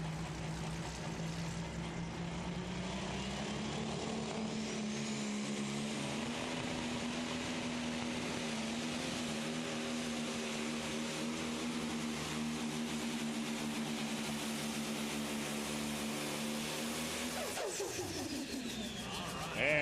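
A John Deere pulling tractor named the Bull Wagon roars steadily at a pro pulling league event, a loud sustained engine drone that climbs in pitch and holds for most of the stretch before cutting off near the end.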